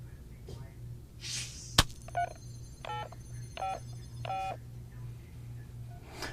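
Telephone call tones on a live call-in broadcast, a sharp click followed by several short, evenly spaced dialing or ring tones over a low steady hum, with faint voices at the edges.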